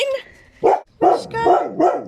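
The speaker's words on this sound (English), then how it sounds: "You're a good guard dog, aren't you?" A guard dog gives a quick run of loud, close barks, several sharp woofs in a row with short gaps between them.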